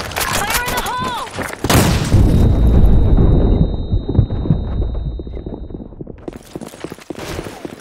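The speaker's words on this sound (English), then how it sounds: "Fire in the hole! Grenade!" A grenade blows up in a shooter video game, a loud close boom with a long rumbling decay, following a burst of shouted voices and gunfire.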